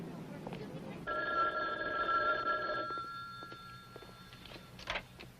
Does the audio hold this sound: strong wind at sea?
no